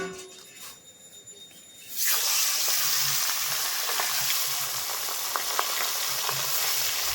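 After a quiet moment, mustard oil hits a hot wok and bursts into a loud, close sizzle. The hiss then carries on steadily with scattered pops, and no one speaks.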